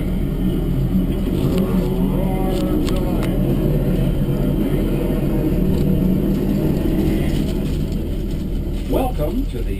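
A racing car engine fires up and rumbles steadily at Indianapolis Motor Speedway, a loud continuous low roar with occasional revving, with crowd and announcer noise mixed in.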